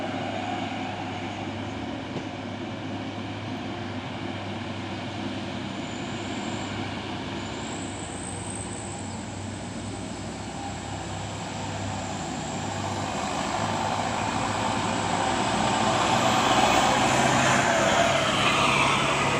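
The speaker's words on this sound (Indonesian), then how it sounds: "Terpantau ramai lagi truk-truk yang menanjak." Heavy trucks climb slowly up a hill on a road, a continuous low engine drone and grinding roar that swells louder toward the end, with no talk.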